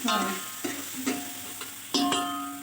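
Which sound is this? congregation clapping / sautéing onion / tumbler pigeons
sautéing onion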